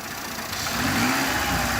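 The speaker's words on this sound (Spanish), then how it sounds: "veis que estamos ya altos de revoluciones" A car engine holds at high revs during a fuel pressure regulator check, a loud, steady, close roar with no talking.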